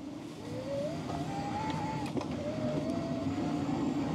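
Douze Hêta cargo e-bike with a Shimano EP8 mid-drive motor pulls away hard at maximum assist in its lowest gear, its motor giving a rising electric whine that climbs in pitch over steady road and wind noise.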